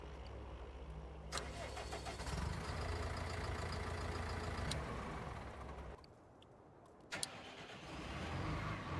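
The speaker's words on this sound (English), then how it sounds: "So yeah, he's changed the engine sounds and the startup sound." A modded Claas Atles 900RZ tractor in Farming Simulator 19 cranks and starts, then runs at a low, steady idle. The engine briefly cuts and restarts near the end, with no talking.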